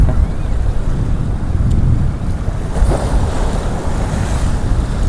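Evening surf on an Arabian Sea beach roars loud and close, with constant breaking waves and heavy wind buffeting the microphone.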